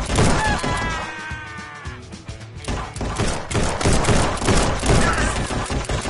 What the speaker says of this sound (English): I'm trying to shoot bottles.